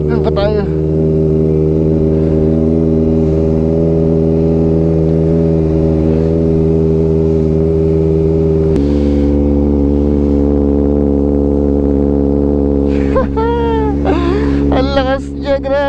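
A Kawasaki Ninja ZX4RR motorcycle engine runs loud and steady close by, holding a high rev with a sudden pitch change midway, before wind and road noise and a brief talking voice come in near the end.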